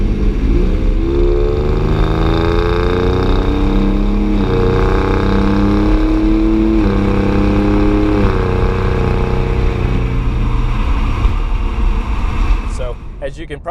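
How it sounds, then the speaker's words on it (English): A 2017 Ford Raptor pulls hard under acceleration, engine note climbing and dropping as it shifts quickly from third up through sixth gear, loud and steady throughout, with a voice talking over the engine. "We'll give it a little acceleration here. So that's 3rd gear, still in 3rd, 4th, 5th, and finally to 6th gear."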